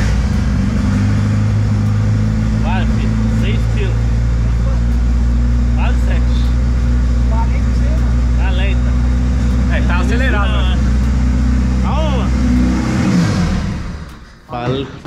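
A turbocharged Volkswagen Gol engine starts for the first time in a garage and revs loudly, rumbling continuously for several seconds before cutting off abruptly. Faint voices sit under the noise.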